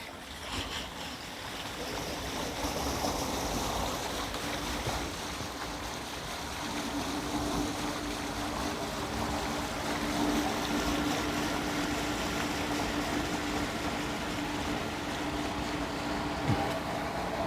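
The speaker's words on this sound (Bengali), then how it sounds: "ঝর্ণা" A waterfall in a park in Johor, Malaysia, swollen after heavy rain, roars as a steady broadband rush of falling water that never lets up.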